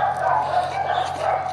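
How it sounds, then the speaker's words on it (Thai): A brief burst of yelping, whiny dog barks, close and fairly loud, over a low steady hum. "มันจะมีเสียงหมาเห่า"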